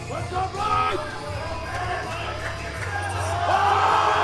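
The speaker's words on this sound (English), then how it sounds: "The crowd is behind him." Arena crowd cheering a heavyweight weightlifter at the Auckland Cup 2024, a steady roar with voices and whoops that swells louder toward the end, with a commentator talking over it.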